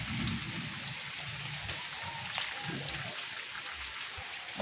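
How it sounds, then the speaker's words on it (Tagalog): Steady morning rain falls and patters across surfaces in a continuous broadband hiss, with faint low background noises underneath and no clear talk. "Maulan na umaga."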